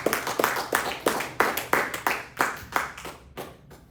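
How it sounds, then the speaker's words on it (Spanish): A church congregation claps together in a run of about ten sharp, evenly spaced bursts, moderately close and fading slightly toward the end. "Dele un aplauso."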